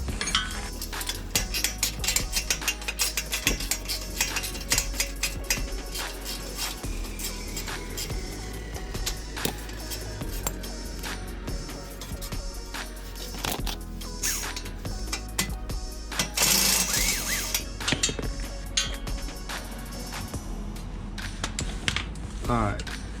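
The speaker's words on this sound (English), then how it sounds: "I'm gonna try getting this last nut off back here." A wrench clicks and clinks against metal in a garage while loosening the last nut on a BMW 335i downpipe, small ratcheting taps and scrapes scattered over steady background noise.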